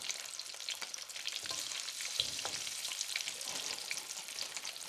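Triple cooked chips frying in a pan, a soft steady sizzle of hot oil with scattered crackles and pops, faint and close, with no talking.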